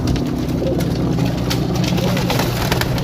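Pigeons coo in a rooftop loft at Sarai Alamgir, Gujrat, a soft low rolling murmur running steadily over a constant engine-like hum, with people talking nearby throughout.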